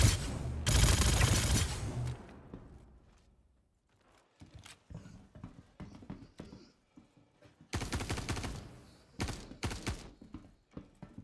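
Ship guns firing in the space game Star Citizen: a loud sustained burst of rapid gunfire, then a quieter stretch of scattered shots, followed by two more heavy bursts.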